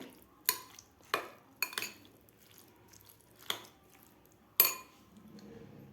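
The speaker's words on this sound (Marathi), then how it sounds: "आता आपल्याला हे व्यवस्थित मिक्स करायचं आहे" A spoon knocks and clinks against a bowl while a vegetable and egg sandwich filling with mayonnaise is mixed, five or six sharp separate taps spaced unevenly over a quiet background.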